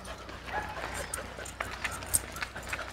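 A puppy in a busy park gives a few faint, short yips and whimpers over soft outdoor background noise, with people's voices in the clip.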